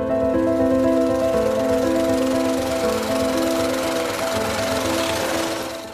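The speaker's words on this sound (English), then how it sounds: "The stones are crushed by the widely used chan fra into small pieces until a fine sand" A chan fra stone crusher grinds rocks into fine sand at a gold mining site, a loud, steady mechanical drone with a constant motor hum throughout.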